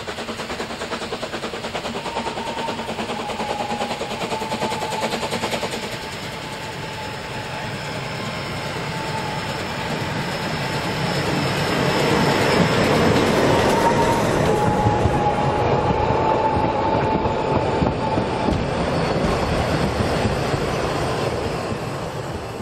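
A freshly painted SKL rail motor car rolls into a station on the narrow-gauge Rasender Roland line on Rügen. Its engine drones steadily and rail noise clatters, swelling in the second half as it draws closer. No one speaks.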